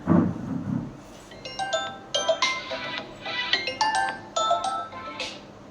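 A phone ringtone plays a bright, repeating electronic melody of short tonal chimes in steady bursts. It is moderately loud and close, with no one speaking over it.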